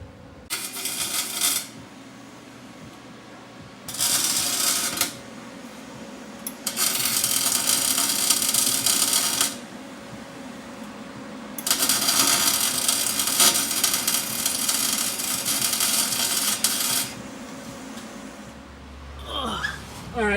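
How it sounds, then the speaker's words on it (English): MIG-style welding on the spider gears of a BMW E36 325i differential, heard as bursts of loud crackling, sizzling arc noise lasting a few seconds each, separated by quieter pauses, with a brief grinding or handling sound near the end. "I'm welding the spider gears"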